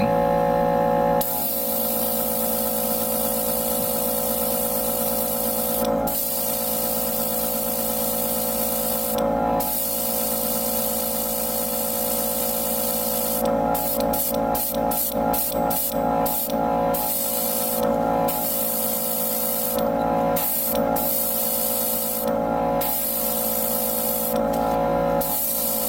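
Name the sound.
spray painting Gundam model kit thrusters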